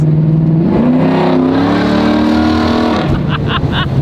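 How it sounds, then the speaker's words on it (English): A big-block V8 in a Mustang roars loud and close as the throttle opens, the engine note climbing and holding in a hard rev before dropping off with a few crackles at the end. "hearing that cramped V8 scream"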